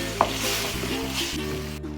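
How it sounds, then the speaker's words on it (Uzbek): Chopped tomato and bell pepper fry in a hot pan, giving a steady close sizzle with brief stirring scrapes and a small clink near the start, and no talking. "bor yo'g'i 2 minutgina qovuramiz."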